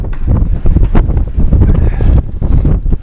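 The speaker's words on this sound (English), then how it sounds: "It's a little breezy up here." Gusty wind buffets the microphone outdoors on a hilltop, loud rumbling bursts rising and falling through the short stretch, with no speech.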